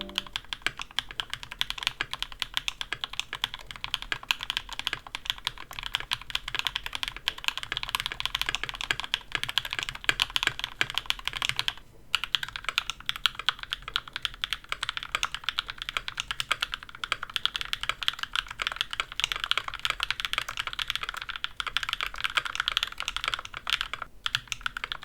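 Steady, continuous typing on a KBD67 mechanical keyboard in a V3 aluminum case without foam, with dense rapid keystrokes and a few brief pauses, heard close and alone.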